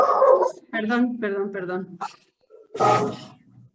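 A small pet dog barks during a home office video call, a few short yaps and whimpery vocal bursts coming close to the microphone, mixed with brief speech.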